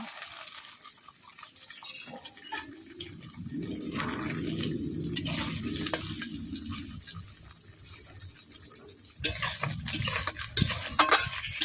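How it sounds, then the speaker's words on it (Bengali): Paneer frying in hot oil in a wok, a steady close sizzle with scraping and stirring clatter that swells in the middle and picks up sharper utensil clinks toward the end; no one speaks. "তেল গরম হয়ে গেছে, আমি ওতে পনিরগুলো দিয়ে দিচ্ছি কড়াইয়ের মধ্যে ভাজার জন্য।"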